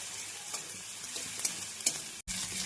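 Tomatoes fry in a pan while pigeon pea dal is cooked, giving a steady close sizzle with a few sharp stirring clicks and a brief cutout near the end.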